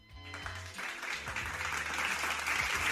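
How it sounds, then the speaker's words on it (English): Applause builds from a quiet start into a steady, dense wash of clapping that grows louder over a few seconds, with low tonal sounds underneath. "Applause, everybody."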